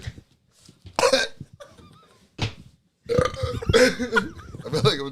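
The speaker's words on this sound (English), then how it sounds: "I feel like I'm just gonna be burping forever." Several loud, guttural burps come in quick succession, with short gaps and one stretched-out belch near the end, mixed with laughter and voices in the room.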